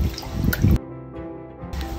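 Water agitated in a container during a colour-changing chemistry demonstration, giving a close sloshing, dripping splash that breaks off briefly and then resumes.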